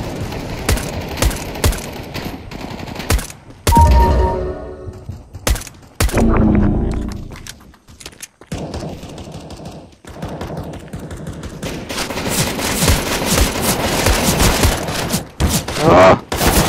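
Rapid automatic gunfire in the video game CS:GO, with dense bursts of rifle shots, brief pauses, then sustained firing again; loud and close, with a player's voice occasionally under the shots.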